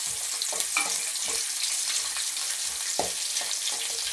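Onions sizzle in hot oil with mustard seeds for a village-style egg curry, a steady close frying hiss broken by a few sharp spatter pops and stirring scrapes.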